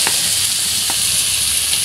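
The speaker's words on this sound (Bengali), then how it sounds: "আগে কিছু পেঁয়াজ কুচি আর হচ্ছে রসুন এগুলো একটু ভাজা দিয়ে নেব, বাদামি করে" Chopped onion and garlic sizzle steadily in hot oil, a loud, dense frying hiss that runs unbroken, with a few faint clicks of stirring.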